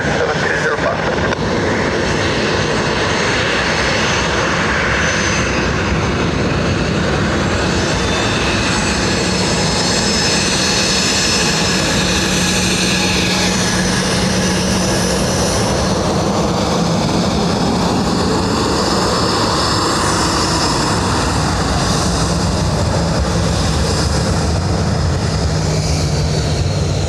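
A Ryanair airliner lands on runway 28 left at Dublin airport, a loud, sustained roar of jet engines that swells and shifts over nearly half a minute, with radio voices talking underneath.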